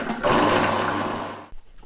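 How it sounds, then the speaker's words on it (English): A food processor whizzes garlic and shallots for escargot garlic butter, a loud, steady whirring roar that runs about a second and a quarter and then cuts off abruptly. "you can put this in a food processor"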